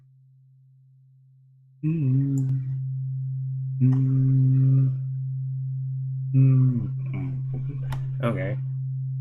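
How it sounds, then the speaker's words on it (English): A pure 132 hertz sine wave tone at amplitude 1 hums low and perfectly steady throughout, while someone speaks over it in several short bursts. "132 hertz sine wave tone, amplitude 1."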